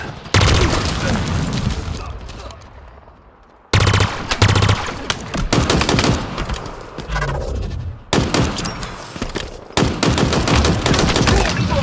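Automatic gunfire in Halo Infinite, long loud sustained bursts with a short pause midway, accompanied by game explosions and voice callouts over the firing.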